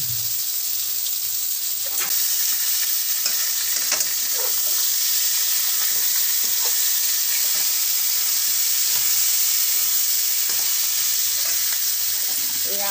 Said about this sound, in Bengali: আদা সব ফোড়ন দিয়ে ওর মধ্যে কুমড়ো পটল আলু ঝিঙে সব ছেড়ে দিয়ে কষিয়ে